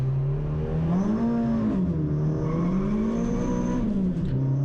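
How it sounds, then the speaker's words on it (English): Renault Clio 182 race car building revs on a congested grid at Silverstone for a race start, the engine held loud and close, rising and falling in rhythmic waves as revs are blipped, no speech. "The lights will come on when I start building some revs, and we're going for our first race start of the year."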